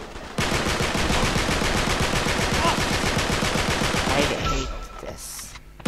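Sustained rapid automatic gunfire from the video game Uncharted 3: Drake's Deception rattles loudly for several seconds at a steady fast rhythm, then cuts off as a voice speaks briefly.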